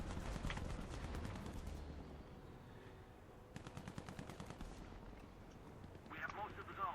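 Machine gun fire in the War Thunder tank game, heard as rapid rattling bursts, one early and another midway, with a rumbling background and someone talking over it.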